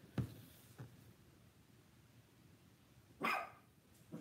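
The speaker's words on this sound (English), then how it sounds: "these dogs are driving me crazy." Dogs barking inside a house, a few sharp separate barks, one early, another shortly after and a louder one near the end, fairly close against a quiet room.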